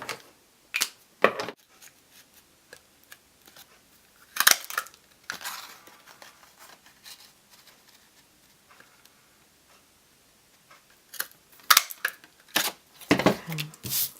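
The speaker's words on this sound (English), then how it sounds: "what I'm going to do is punch out an edge just to give it a little bit of a trim" A paper punch snaps through an edge trim on Pool Party cardstock in a few sharp, close clicks and crunches separated by quiet pauses, with faint handling noise between.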